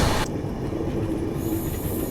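Aboard the Yeshwantpur–Vijayapura summer special train as it runs nonstop, a steady rolling rumble fills the carriage with a brief high squeal at the start and a continuous close roar throughout.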